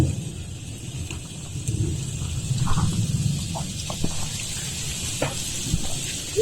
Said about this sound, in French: vous allez voir un peu le tonnerre